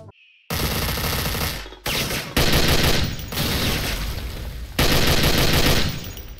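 Soviet-era Degtyarev machine gun firing in a video game, loud sustained bursts of rapid automatic fire with brief pauses between strings, close and dense with no talk.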